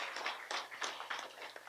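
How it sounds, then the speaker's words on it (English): Light applause at a Lions Club of Tortola anniversary gala honoring past presidents, a thin scattering of claps heard faintly and from some distance, irregular and sparse, with no voices over it. "let's give all of them a round of applause and their family for contributing"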